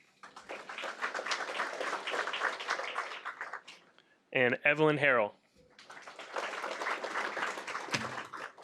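Audience applause for named students at a school board meeting, sustained clapping before and after a brief spoken name.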